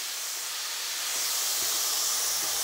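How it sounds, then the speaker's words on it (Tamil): Steady high-pitched hiss of onions sautéing in a pan over a low flame, quiet and continuous with no talking. "இந்த வெங்காயத்தை போட்டுட்டு நம்ம நல்லா வதக்கிப்போம்"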